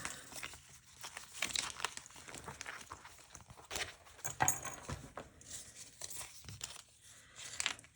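Someone rummages through sticker sheets for a journal, making irregular crinkling and rustling paper sounds with a few sharper crackles and quiet pauses between them.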